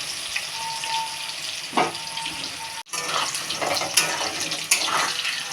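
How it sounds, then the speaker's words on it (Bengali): Potatoes fry in a pan with turmeric and salt, a steady hissing sizzle broken by a few scraping stirs and a short pause before the sizzling resumes. "হলুদ গুঁড়োর লবণ দিয়ে আলুটা নাড়াচাড়া করে হালকা লাল হলে উঠিয়ে নেবেন"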